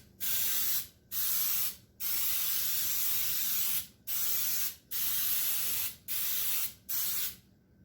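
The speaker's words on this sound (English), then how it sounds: "Okay, so let me spray my pan." Cooking spray from an aerosol can coats a cake pan in seven close, loud hissing bursts, each about a second long, separated by short pauses.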